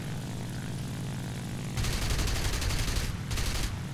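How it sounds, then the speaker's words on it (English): Four MG 151 20mm cannons firing from a Focke-Wulf FW 190A-8 fighter in an air combat video game, two loud rapid bursts of cannon fire over the steady drone of the aircraft engine. "The four 151 20mm cannons are amazing."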